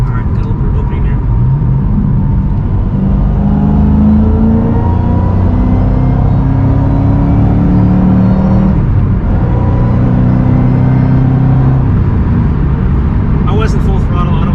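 Ford Shelby GT500 with a smaller supercharger pulley accelerating on a highway, a loud rising engine and supercharger whine over heavy road rumble inside the cabin, sustained for the whole stretch.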